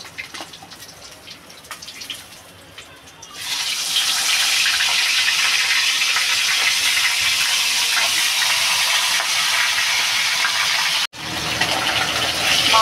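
Katla fish heads hit hot mustard oil in a pan, bursting into a loud, steady sizzle that holds for several seconds, briefly cuts out, then resumes.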